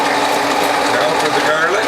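Juicer grinding through avocado pits, a loud, continuous rattling and grinding mechanical churn that stays steady and close throughout.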